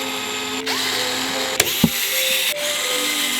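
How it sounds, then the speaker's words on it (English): A power drill runs steadily while backing screws out of the rail of a Onewheel GT electric board, a loud close whine with pitch shifts, short interruptions and a couple of sharp clicks. "The last screws that we need to remove are the top ones because I'm gonna be taking this rail completely off."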